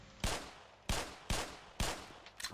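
Gunfire from the video game Black Mesa comes as four sharp single shots at a steady half-second rhythm, followed by a smaller clatter, all fairly quiet with no talk.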